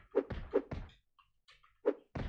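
A shield is destroyed in a 2.5D platformer video game with dull thunking impacts, two quick hits, then a pause and two more, loud and close with no talk.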